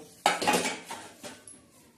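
Peanuts, garlic, coriander and green chilies are ground into a masala on a flat grinding stone, giving a few close, coarse scraping strokes that swell and fade over two seconds.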